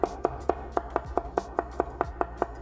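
A cleaver repeatedly smashing and chopping about 1.5 ounces of ginger on a cutting board, about ten sharp, evenly spaced knocks, close and distinct with no talking.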